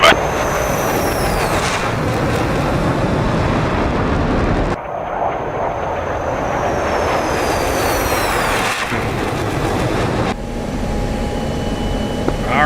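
Jet aircraft roaring past in the DCS World flight simulator, a loud steady engine rush with whining tones that sweep downward, cut off abruptly and swell again, with no talk.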